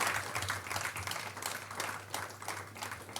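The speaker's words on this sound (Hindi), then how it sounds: "आइए हम जोरदार तालियों बजाते हैं।" Applause welcoming pastors at a Good Friday church service, heard fairly faint and distant, with steady scattered clapping over a low electrical hum.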